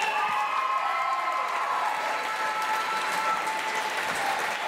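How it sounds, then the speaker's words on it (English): Steady crowd applause with some cheering at the close of an a cappella show, continuous and even, heard from amid the audience. "So can we please just give one more round of applause?"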